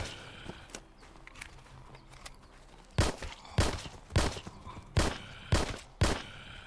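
Gunshots fired at zombies in a top-down survival video game: about six sharp, loud shots spaced roughly half a second to a second apart, following a few seconds of quieter game sound.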